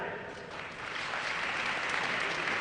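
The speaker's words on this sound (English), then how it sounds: "That was actually a weak clapping of hands." A large crowd of thousands claps, a dense and steady wash of applause that swells slightly and holds for the whole stretch without pause.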